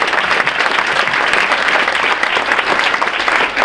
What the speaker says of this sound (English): round of applause for our AMSA student athletes for representing us so